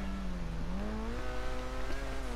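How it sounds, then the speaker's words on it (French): Cheval Taipan supercar exhaust and engine in GTA Online, a loud close revving drone whose pitch rises in steps across the short stretch, with no voices. "Le bruit des pots et un peu le moteur, il ressemble à la turbo R."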